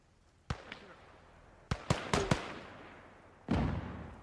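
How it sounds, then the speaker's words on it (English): Rifle grenade explosions in the World War II strategy game Gates of Hell: Ostfront, a few sharp blasts: one early pop, a tight cluster of three or four bangs in the middle, then a final heavier boom, all fairly close and without talk. "Oh, what a good rifle grenade."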